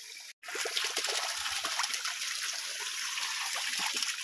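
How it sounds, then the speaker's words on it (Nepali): Floodwater rushes along a village stream in a steady, close, broadband wash of flowing and trickling water, unbroken apart from a brief dropout near the start. "भल त यता पनि भल आउँदो रहेछ"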